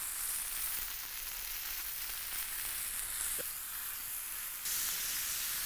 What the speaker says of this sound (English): This wonderful side of fat also has to hit the grill.